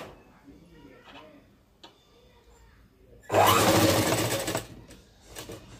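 A sewing machine stitching cloth for a boat-neck long frock runs in one fast, rattling burst of about a second, between quieter clicks and handling sounds, with someone talking.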